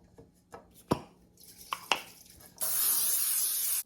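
Cooking spray hisses steadily for about a second onto a cake pan being greased for a scratch chocolate cake, following a few sharp knocks and taps nearby.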